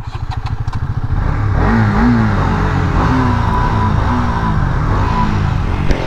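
A KTM Duke motorcycle idles briefly up close, then is revved hard. The engine roar climbs and falls in repeated loud sweeps, and no one speaks.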